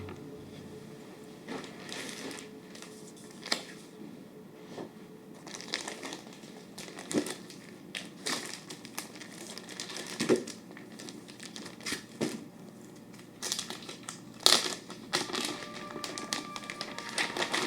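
Paper being handled and rummaged through at a drawing desk, with irregular crinkles, taps and rustles at close range, soft and scattered with a few sharper clicks.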